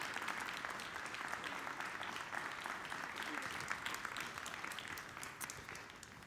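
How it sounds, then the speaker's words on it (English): An audience at a cybersecurity award ceremony applauds, a dense steady clapping that carries on for several seconds, faint and somewhat distant. "a roaring round of applause for this award for cybersecurity and for Aapo Zetterberg's journey."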